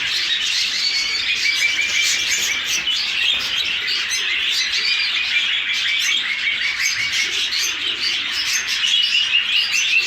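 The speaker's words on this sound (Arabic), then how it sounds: "هاي بالنسبة لطيور الباجي طيور الحب" Dense, continuous chirping and twittering from many caged budgerigars, steady and fairly loud throughout with no pauses.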